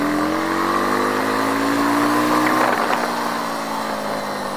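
Twin-cylinder Nevada 250 motorcycle engine running steadily under a rider, a loud continuous hum whose pitch climbs gently, then dips slightly as the revs ease off partway through.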